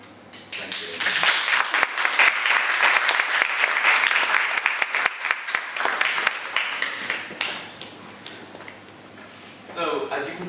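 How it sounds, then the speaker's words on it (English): An audience claps in sustained applause after an author's live reading of his own story, dense and close for about eight seconds before thinning out, with a voice speaking briefly near the end. "Could we give him another round of applause?"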